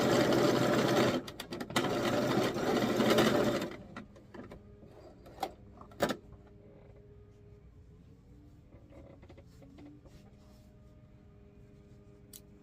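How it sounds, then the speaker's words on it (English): A sewing machine stitches boning onto a bias strip of fabric for a sweetheart mini dress, a fast whirring run of a few seconds, then stops, leaving quiet handling clicks and faint creaks. "I'm sewing it directly to the bias piece"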